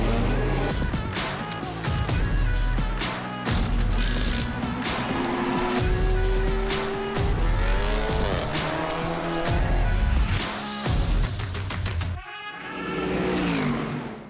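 TCR touring race cars lapping Spa-Francorchamps in an endurance race, loud engines roaring and revving past in repeated pulses, with shifting pitch sweeps and tire noise, and faint commentary mixed in.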